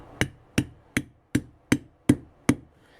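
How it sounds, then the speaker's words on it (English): A plastic rubber hammer tapping a Snap-on socket while assembling a power steering pump, seven evenly spaced firm knocks, close and dry with a short ring after each. "I have a snap-on socket and a plastic rubber hammer."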